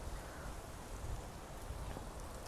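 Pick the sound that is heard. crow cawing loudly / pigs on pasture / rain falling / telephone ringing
rain falling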